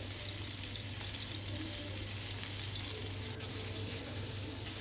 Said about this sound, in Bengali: আর তার পাশে আমার অন্য চুলায় রয়েছে রোস্টের জন্য আমি মুরগি ভাজতে দিয়েছি